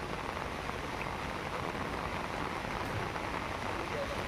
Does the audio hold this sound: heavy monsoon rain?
yes